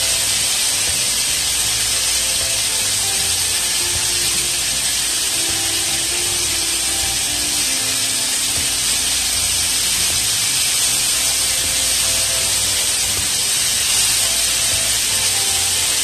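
Scallops searing in a very hot pan for a Jamaican curry dish, a loud continuous hiss and sizzle that holds steady throughout, with no voices.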